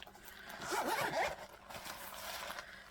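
A single zipper with a plastic-coated pull on a plastic-lined Vera Bradley bag is drawn open, a quiet close rasping zip lasting about half a second, with no talking.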